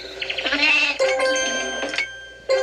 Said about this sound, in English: we have a sheep. She's right over here.